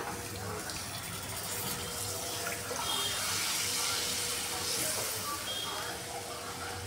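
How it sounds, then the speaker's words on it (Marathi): Water poured into fried masala in a pan for kofta gravy makes a steady, soft hissing pour lasting several seconds, close and continuous. "त्यामध्ये आपण आवश्यकतेनुसार पाणी टाकूया"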